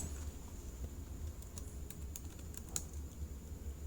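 Someone types an item code into a spreadsheet on a computer keyboard, producing quiet, irregular key clicks with a few sharper taps over a faint steady background hum.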